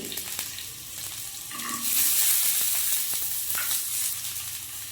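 Chopped onion and garlic fry in hot oil in a pan, a steady close sizzle that swells louder midway, with occasional light clinks and stirring.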